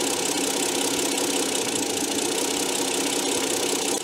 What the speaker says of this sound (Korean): 엔진의 진동 모습은 RPM이 변하는 모습은 심하지 않기 때문에 소리로 들을 수밖에 없습니다